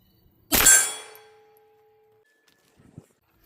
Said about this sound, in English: Send one to the gong while we're at it.